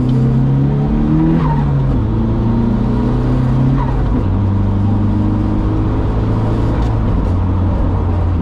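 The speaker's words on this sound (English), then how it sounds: "That's letting off the gas and using the clutch every time." A turbocharged car's engine drones loud and close through a series of gear changes. The revs drop each time the driver lifts off the throttle and works the clutch, and the pitch falls in stepped segments across the run.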